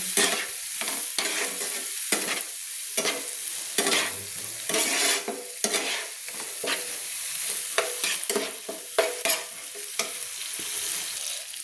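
Spice masala with tomato paste is stirred in a hot pan, a steady sizzle broken by repeated scraping strokes of a spatula at an uneven rhythm, close and clear.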